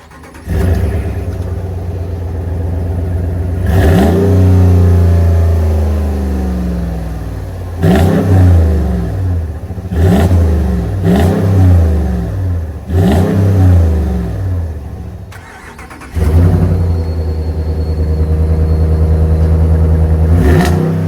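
Two 2024 Ram 1500 pickups with 5.7 liter Hemi V8 engines start up, then rev in a series of loud, close bursts, each rising and falling back to a deep idle.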